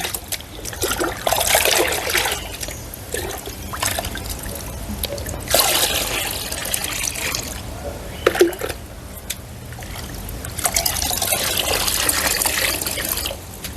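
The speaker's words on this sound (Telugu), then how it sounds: "ఇది టెన్ లీటర్స్ బకెట్ అండి అందులో ఇప్పుడు ఒకటి ఇది పోస్తుంది" Homemade liquid fertilizer is poured into a ten-liter bucket for a rooftop vegetable garden, making close splashing and trickling that swells and fades in several bursts over a low background, with no talking.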